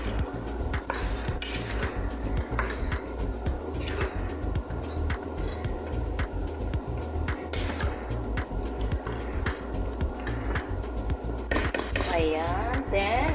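Chicken adobo with tamarind being stirred in a pot, with steady scraping and clinking of a utensil against metal that runs close and continuous, with some background noise.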